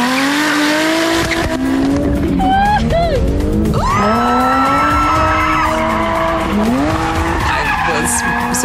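A Jaguar F-Type roars as it accelerates, its engine pitch climbing through gear changes while tires squeal loudly, close and continuous.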